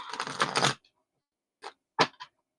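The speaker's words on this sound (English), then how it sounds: "Let me get these cards shuffled good." A deck of reading cards is shuffled close up: one dense papery burst of riffling, then a pause and a few brief soft card flicks in a quiet room.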